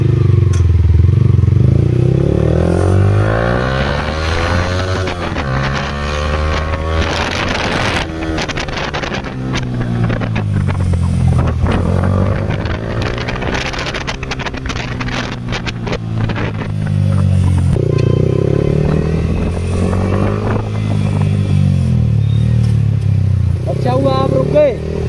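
A motorcycle revs and runs along the road, its engine rising and falling through repeated throttle swells, with strong wind buffeting the microphone throughout.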